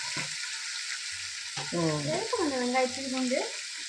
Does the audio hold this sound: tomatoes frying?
yes